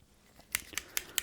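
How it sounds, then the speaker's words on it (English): A pair of scissors snips four times in quick, evenly spaced cuts, crisp and close in an otherwise quiet setting. "I just so happen to have a trusty pair of scissors here"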